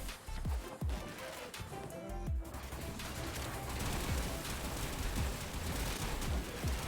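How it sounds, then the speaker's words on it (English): Constant gunfire in the video game Warframe: rapid, overlapping shots and thumping blasts roll on without pause, dense and loud from start to finish, with mechanical clanks mixed in and no talking. "Just a constant gunfire."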